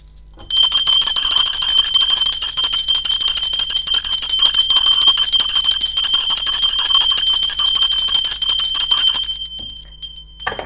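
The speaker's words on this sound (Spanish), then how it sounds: "Bueno, va campana" A bell is rung during a tarot reading and gives one bright, sustained metallic ring. The ring holds loud and steady for about nine seconds, then cuts off, with no speech.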